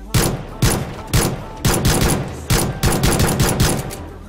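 Tommy gun firing in a video game, a string of sharp, loud bursts of rapid automatic shots with brief pauses between them, up close and alone.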